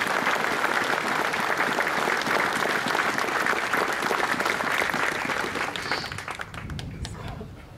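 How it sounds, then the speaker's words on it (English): Applause for Private Noel MacDonald at a Michael Collins commemoration ceremony in Cathal Brugha Barracks, Dublin. A crowd claps steadily and fairly distantly for several seconds, then tapers off toward the end. "a special round of applause for Private Noel MacDonald"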